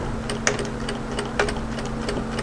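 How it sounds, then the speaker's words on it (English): A sewing machine runs a few stitches forward and back for a back tack on a camisole, with quick rhythmic mechanical ticking and two slightly louder clicks, close and alone. "I'll just sew a couple of stitches, just do a back tack to start that off"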